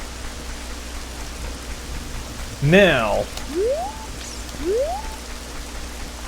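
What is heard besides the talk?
rain falling in the video game Zelda: Ocarina of Time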